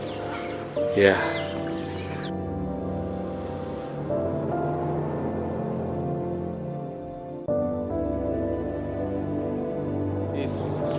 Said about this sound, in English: There are some chicken, small chicken. They're already adult chicken, but they are very small.